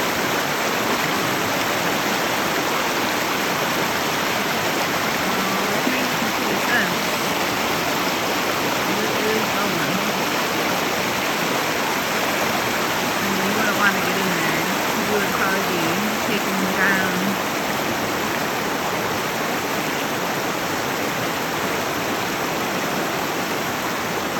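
Steady, broad rushing of flowing water fills the whole stretch, constant and fairly close, with a faint voice occasionally under it.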